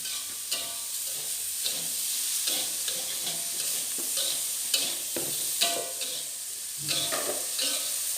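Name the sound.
stirring tofu stir-fry in a pan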